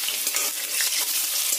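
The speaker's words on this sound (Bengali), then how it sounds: "আলুগুলো খুব ভালো করে লাল লাল করে ভেজে নেব" Potatoes frying in hot oil for a chicken curry, lightly salted as they brown, giving a steady, close, dense sizzle with soft stirring scrapes throughout and no voices.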